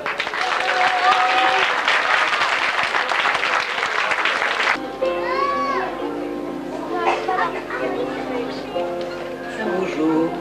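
An audience claps loudly and steadily for a group of dancing mothers at a show, the applause lasting several seconds before giving way to chatter, children's voices and the start of music.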